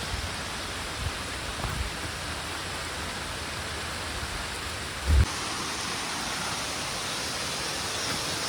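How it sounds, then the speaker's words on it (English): Heavy rain pours steadily at Na Muang Waterfall on Koh Samui, a dense, continuous hiss close by with a brief heavier thump around the middle and no talking. "you can see it raining heavy"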